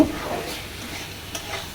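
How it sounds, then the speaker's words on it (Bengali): Drumsticks and potatoes frying in spices in a pan, a steady close sizzle with faint scraping of stirring. "লবণ দিয়ে ডাটা আর আলুটাকে মশলায় খুব ভালো করে ভাজা ভাজা করে ভেজে নিব"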